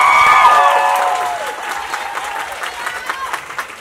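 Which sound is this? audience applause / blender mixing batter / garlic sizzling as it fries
audience applause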